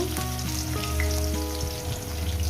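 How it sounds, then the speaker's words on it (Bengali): Potato and taro fry in hot oil with dried chillies for a vegetarian spinach and bori chorchori, making a loud, constant sizzle close by with a few stirring sounds. "কয়েক সেকেন্ড ভেজে নেব কয়েক সেকেন্ড ভেজে নেওয়া হয়ে গেছে"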